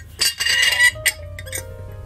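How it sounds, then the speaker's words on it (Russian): Glass drinking straw clinking against a glass cup, a few bright close taps and rattles in quick succession within two seconds, then fading, with no speech. "Такая вот тут трубочка, она стеклянная вроде бы."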